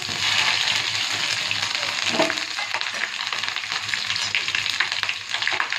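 A continuous, close sizzle and crackle of mustard seeds, cumin, fenugreek, ginger, curry leaves, and green and red chilies frying in hot oil, a tempering for kadhi pakoda, with faint stirring throughout.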